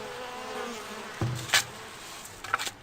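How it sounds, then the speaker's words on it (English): Bees buzzing around beehives in the video game Farthest Frontier, a steady insect drone with a few brief louder bursts, no talking. "I have beehives here as well. So, you know,"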